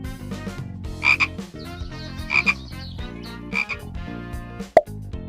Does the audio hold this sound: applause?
no